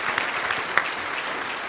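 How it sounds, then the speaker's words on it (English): An audience at a sales training seminar applauds a speaker with a burst of dense, continuous clapping, a few sharper claps standing out near the start, nearby and fairly loud. "let's give him a big hand"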